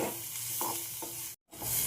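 Spices sizzling and being stirred in a hot pan before poppy seed paste goes in, with steady frying hiss, scraping stir strokes, and a brief silent gap near the end before the sizzle resumes.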